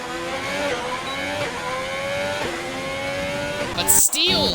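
Race cars scream past at high speed in a racing video game set in Azerbaijan, with continuous loud engine whine and rising and falling gear shifts. A sharp burst of noise comes near the end, and a commentator talks over it.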